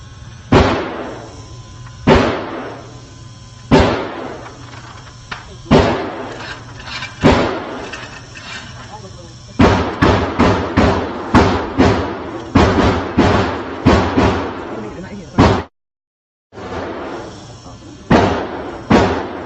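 Repeated gunshots at an indoor gun range, loud sharp reports firing in irregular bursts, some single and some in rapid clusters, close by with a brief silent gap near the end.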